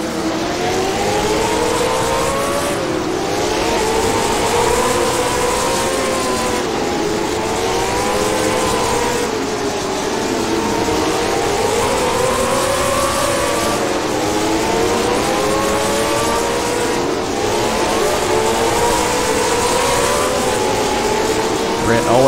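Late model stock cars racing around Jefferson Speedway, a sustained engine roar with repeated pitch swells as cars rev through the corners and sweep past, constant and loud from start to finish.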